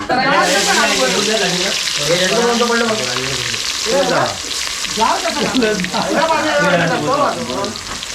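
Chicken and onions frying in a pot outdoors at a hilltop party, stirred steadily with a loud continuous sizzle and scraping, while people talk over it.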